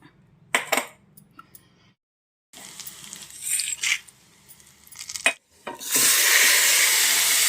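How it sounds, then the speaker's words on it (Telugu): Garlic, cumin, urad dal and dried chillies for a tempering hit hot oil with a few clatters and clinks of utensils, then a loud, steady sizzle builds at the end. "తాలింపు వేసుకుందాం వెల్లుల్లిపాయలు జీలకర్ర మినప్పప్పు ఎండుమిర్చి"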